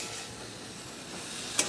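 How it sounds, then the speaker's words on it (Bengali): Shrimp frying in oil in a pan for a shrimp and taro-stem curry, a steady soft sizzle throughout with a brief sharper crackle near the end, no voices. "আমি চিংড়ি মাছটা এর মধ্যে দিয়ে একবারে কষিয়ে নেবো, কারণ এতে চিংড়ি মাছ ভাজা হয়ে যাবে"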